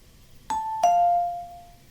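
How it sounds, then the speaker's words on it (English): Two-tone doorbell chime in a horror video game, a ding then a longer, lower dong that rings out, clear and fairly loud over a quiet background. "Someone ring the doorbell?"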